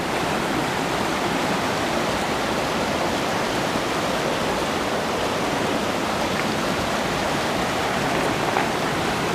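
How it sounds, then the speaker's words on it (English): Floodwater rushes in a loud, constant roar in Lake City, filling the whole clip without letting up. "Hopefully you can hear me okay over the water."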